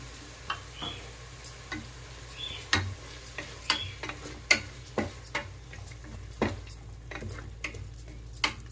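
Mint, ginger and garlic paste frying in a pan, giving a soft background sizzle broken by sharp, irregular ticks and clicks of stirring against the pan, close and fairly quiet.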